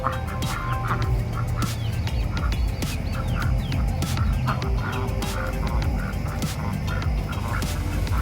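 Pet male ducks quack in a busy, continuous low chorus, nearby and fairly loud, with repeated calls overlapping throughout and no talking.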